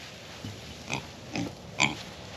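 Pigs on a farm waiting for their morning grain, giving a few short grunts and squeals spaced about half a second apart, fairly close but quiet against a steady background hiss.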